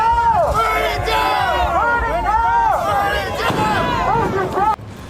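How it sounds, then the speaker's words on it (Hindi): A protest crowd chants slogans loudly during the Los Angeles immigration protests, with rising and falling massed voices in a rhythmic, close, continuous roar that cuts off abruptly near the end. "दहकते झंडे, गूंजते नारे और तितर-बितर होती भीड़।"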